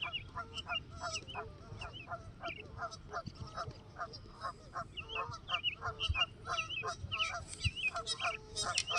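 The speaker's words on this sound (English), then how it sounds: "I don't know how anyone can enjoy this sound of nature with those geese." A flock of geese honks loudly and constantly, overlapping calls in quick bursts that rise in intensity toward the end.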